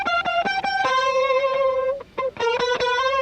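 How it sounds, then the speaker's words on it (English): A lead guitar line distorted through a pedal, cabinet simulation and grain delay, thick sustained tones with rich harmonics and quick rhythmic picked notes, loud and alone. "And then I added pedal, cabinet, and grain delay to make it distorted."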